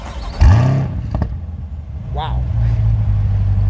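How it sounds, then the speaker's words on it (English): A small-block V8 engine of a 2020 Chevrolet Corvette Stingray Z51 convertible rumbles low and steady at close range, swelling slightly in loudness, with a brief exclamation from a voice near the start. "that's the sound of a small V8, small block V8 on a Corvette"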